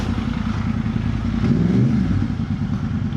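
A Yamaha R1 sport motorcycle being ridden around in circles, a loud, continuous engine drone with a brief rise in revs around the middle, recorded close on the bike with wind rumble and no talk.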